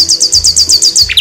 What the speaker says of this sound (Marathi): बाई, चिमण्या चिवचिव करतायत.